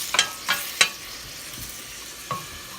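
Bacon and onions fry in a pan with a steady soft sizzle, broken by a few sharp scraping stirs early on and one more near the end, with no talking.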